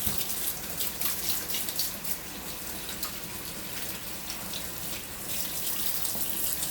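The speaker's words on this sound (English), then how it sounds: "Let me wash my hands." Tap water runs steadily into a kitchen sink during handwashing, a constant close hiss and splatter with no speech over it.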